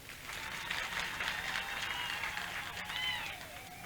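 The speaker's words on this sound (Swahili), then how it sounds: "Nawashukuru sana PBZ, tuwapigieni makofi." Outdoor crowd in a village clapping for PBZ bank, a steady, moderately loud wash of applause lasting a few seconds, mixed with faint high voices.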